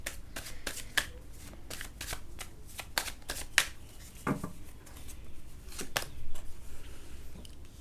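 Tarot cards being shuffled by hand, a run of crisp riffling flicks and soft slaps in an uneven rhythm, close and fairly quiet, with no talking.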